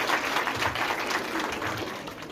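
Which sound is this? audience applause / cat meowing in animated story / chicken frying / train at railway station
audience applause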